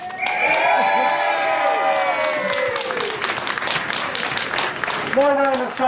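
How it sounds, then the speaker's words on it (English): A crowd at an outdoor protest against water taxes breaks into applause and cheering after being thanked for coming, sustained clapping and whoops filling the air at close range, with a voice calling out near the end. "Give yourselves a round of applause."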